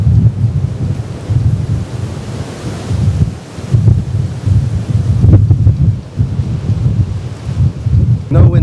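Strong, heavy wind buffets a camera's built-in microphone blimp with no windsock in the middle of a huge open field, giving a loud continuous low rumble with gusty surges throughout.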